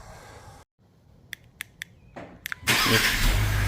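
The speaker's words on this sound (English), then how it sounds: "That's a cold start with the stock exhaust." A few sharp clicks in near silence, then a 2025 Ford Explorer ST engine cranks and fires into a loud, steady roar through the stock exhaust on a cold start that carries on to the end.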